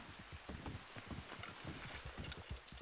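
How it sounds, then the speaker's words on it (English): Horse hooves clip-clop in the Red Dead Redemption 2 game world, a loose, fairly quick run of soft thuds at moderate distance over a windy, rustling background. "Oh, I hear a horse."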